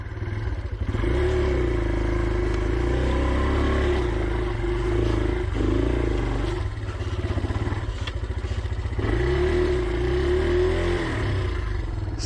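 A 125cc four-stroke enduro motorcycle on road tyres, its throttle sticking, roars loud and close, the engine note surging and dipping in repeated revs with a rattly mechanical edge throughout.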